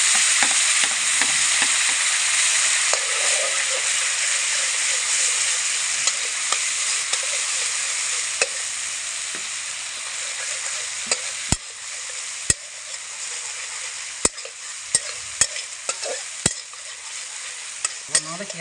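Spices with ginger paste and green chilli frying in a pan for butter paneer, a loud, dense hiss of sizzling with scraping stirs and sharp clicks of the spoon against the pan later on.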